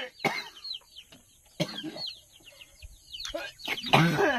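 Chickens clucking in a rural backyard, several short bursts of clucks and chirps from nearby birds at irregular intervals, with a louder cluster near the end.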